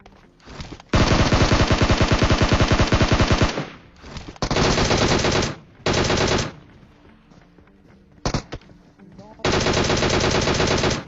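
Automatic gunfire in a shooting video game, pre-firing at an enemy, comes in long loud rapid bursts separated by short gaps, with a few brief single shots in between and no talking over it.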